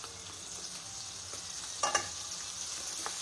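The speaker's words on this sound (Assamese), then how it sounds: "কেৰাহীটো গৰম হৈ অহাৰ লগে লগে ইয়াতে মই দি দিলোঁ বাটাৰ" Butter sizzles steadily in a hot wok on a home stove, a soft continuous frying hiss with a brief louder crackle partway through, close and without talk.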